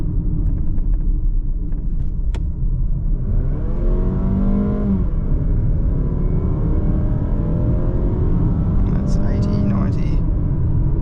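A 2024 Mazda CX-30 2.5 engine revs up hard as the automatic gearbox kicks down, rising pitch and rumble building steadily, with a voice talking over it.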